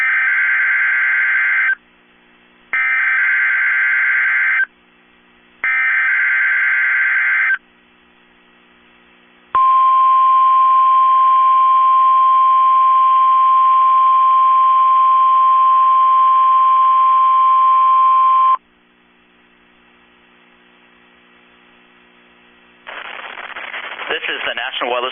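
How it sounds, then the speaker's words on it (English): A NOAA weather radio EAS test from the National Weather Service begins with three loud, evenly spaced bursts of the harsh digital header tone. A long, steady, piercing single-pitch alert tone follows, then a shorter run of data bursts. "The preceding audio signals and alarm tones were a test of the NOAA All Hazards Radio Public Warning Alarm System."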